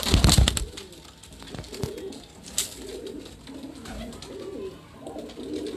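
Pigeons on a rooftop coo in soft repeated low phrases after a loud opening clatter, with faint background noise and no talk.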